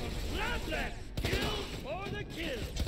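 Bursts of gunfire from a doll gun in the video game Tales from the Borderlands, several short crackling volleys with gaps between them, mixed with game sound effects.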